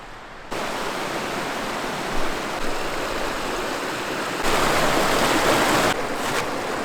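The South Platte River in Cheeseman Canyon rushes steadily nearby, a dense broadband water roar that swells louder midway and then eases slightly, with no voices.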